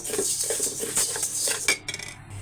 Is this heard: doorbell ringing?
no